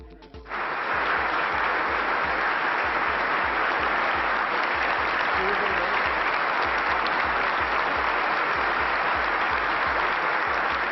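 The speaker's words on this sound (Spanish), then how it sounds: "por la mañana fueron los empresarios los que aplaudían al todavía monarca" Businesspeople applaud King Juan Carlos in a sustained, loud ovation that starts abruptly and holds steady as a dense roar of many hands, with faint crowd murmur underneath.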